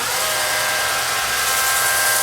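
A stone surface is being polished with a 200-grit abrasive, giving a continuous high, whirring hiss that stays steady and fairly loud throughout with no talking.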